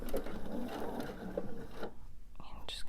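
A sewing machine stitches a scant quarter-inch seam along a quilt top, its fast mechanical whir running steadily for most of the moment before stopping, followed by a brief quiet stretch and a soft rustle.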